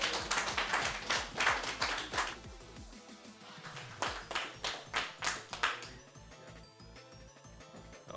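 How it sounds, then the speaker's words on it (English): An audience applauds the player Driffy at the Avalanche 5 event: steady rhythmic clapping runs throughout over continuous background music with a pulsing beat, moderately loud. "Let's give a round of applause for Driffy, everybody."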